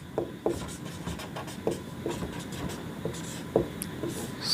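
Chalk or marker writes on a board in a maths class, a series of soft scratchy strokes and taps at an uneven rhythm, quiet and close.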